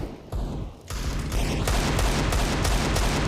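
Desert Eagle pistol shots ring out in CS:GO, a dense run of loud, rapid hand-cannon blasts layered over one another, building from a few early shots into near-continuous firing.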